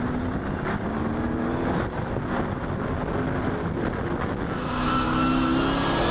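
A V8 Thundercars race car engine drones loudly and steadily from onboard, with wind rush and a rising roar as it accelerates near the end, no voices.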